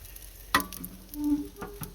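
Oil sizzling on a hot Oklahoma Joe's Rambler griddle, a faint steady crackle broken by a sharp scrape or clatter and a few soft wiping and tapping sounds.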